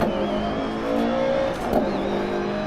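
A Lancia Evo 2 rally car on tarmac in the DiRT Rally racing game, its engine droning steadily at high revs with a brief shift dip and whine, loud and continuous, no speech.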